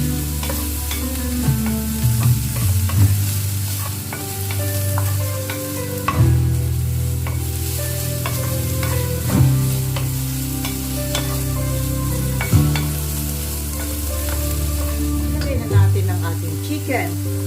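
Ginger being stir-fried for chicken Bicol Express, a steady close sizzle and fry with repeated scraping stirs of the pan every few seconds, no one speaking.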